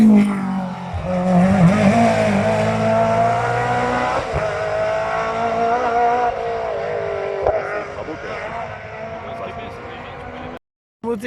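Rally car at speed on a stage of the Rallye du Mont Blanc Morzine 2021, a loud engine note rising and falling as it passes close by, with spectators talking over it before a brief cut near the end.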